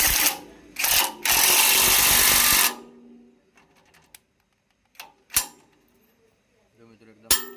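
A power tool tightens a bolt on a rotavator blade in several loud buzzing bursts, the longest lasting about two seconds. Quieter clicks and knocks follow as the work continues.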